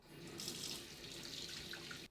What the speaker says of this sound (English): And then I'll rinse again with cold water.